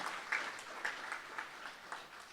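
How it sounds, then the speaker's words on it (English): A civic audience at a city's state of the city address gives a short burst of applause, moderately quiet and somewhat distant, with a few sharper individual claps standing out from the steady patter. "Let's give them a round of applause for this great job."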